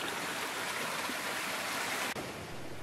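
A mountain torrent in the Savoie highlands rushes at a trout-fishing spot, giving a steady, close, continuous roar of water with one brief dip near the end.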